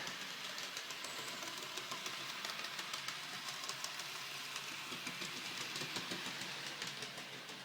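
Model locomotives run on a powered layout with Great Central main lines, giving a steady rolling rumble and faint rhythmic clicking of wheels over rail joints, continuous and moderately quiet throughout with no talk.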